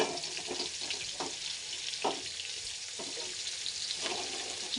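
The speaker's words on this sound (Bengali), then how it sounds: "এবার এই তেলেই দিয়ে দেবো গোটা তেজপাতা, কুচনো রাখা পেঁয়াজ" Whole bay leaves and chopped onion frying in hot oil left over from frying potatoes, a loud continuous crackling sizzle with a few soft stirring knocks spread through it.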